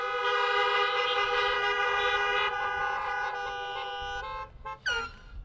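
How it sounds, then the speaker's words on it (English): Vehicle horns honk for high school graduates at a 2020 drive-through graduation, a dense overlapping chorus of loud sustained blasts that thins out toward the end into a few shorter, sharper toots. "please honk for the graduates."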